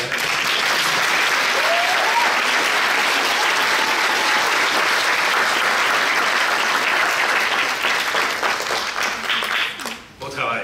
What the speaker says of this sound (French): j'aimerais évidemment qu'on donne une bonne main d'applaudissement